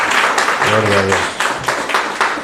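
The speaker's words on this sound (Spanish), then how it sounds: "Vamos a darle un fuerte aplauso a la palabra de Dios." A church congregation claps during a worship service, a burst of applause mixed with a voice calling out praise, fading after a couple of seconds.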